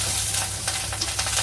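Garlic and lemongrass sizzle in a dry pan with no oil, a dense, close crackle with a few soft stirring scrapes over a brief moment.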